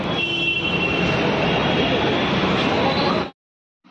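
Metro train running with a loud, steady rumble and rail roar, a faint high squeal on top and a voice in the background, then cutting off abruptly.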